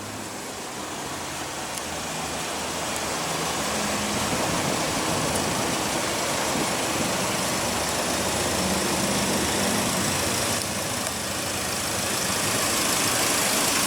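A 2015 Audi A3 with a 1.8 L turbocharged four-cylinder engine idles steadily and close by, a smooth continuous hum with no talking.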